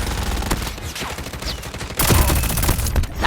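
Gunfire in a shooting video game: rapid volleys of shots crackle over steady game noise, then grow denser and louder toward the end. Close and unbroken, with no voices.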